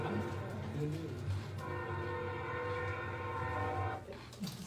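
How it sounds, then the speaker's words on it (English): Train passing outside a recording studio, its horn sounding in a long, sustained chord over a continuous rumble that fades slightly toward the end, with people talking faintly underneath. "now might not be the best time to record audio because there's a train."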